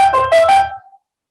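Electronic keyboard notes played without the sustain pedal: a few short, bright tones in quick succession that stop sharply and fade within about a second, heard alone.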